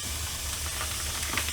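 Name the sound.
ground beef sizzling as it is added to a hot pot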